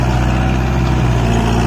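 Kubota MU4501 tractor engine running steadily in second low gear while pulling a rotavator, a loud, continuous low diesel drone with a throbbing rhythm, close by and without talk.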